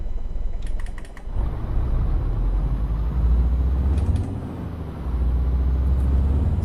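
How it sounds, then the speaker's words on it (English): A Mercedes-Benz Antos truck engine drones steadily in Euro Truck Simulator 2, a low continuous rumble that shifts in level, broken by quick keyboard clicks. "that's the standard Mercedes sounds from the game"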